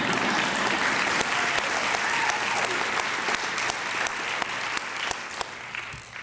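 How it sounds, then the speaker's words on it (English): Sustained audience applause at a women-in-leadership event, dense steady clapping from a large crowd that holds for the whole stretch and thins slightly at the end. "That should have gotten a round of applause."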